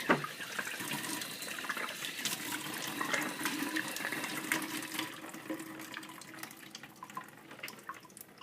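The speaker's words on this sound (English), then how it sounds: "you just turn on the water," Tap water runs steadily from a faucet as a vacuum brush head is rinsed, a continuous splashing wash with slight variations, close and moderately loud.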